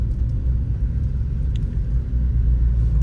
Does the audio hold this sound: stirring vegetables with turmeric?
no